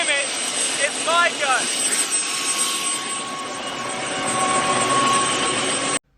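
Steady helicopter engine and rotor roar fills the cabin from start to finish, with a constant high whine over it and a voice talking briefly near the start.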